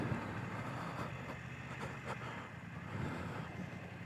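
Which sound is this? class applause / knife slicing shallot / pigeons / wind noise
wind noise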